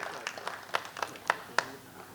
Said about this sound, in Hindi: एक बार ज़ोरदार तालियाँ आशीष सिंघल साहब के लिए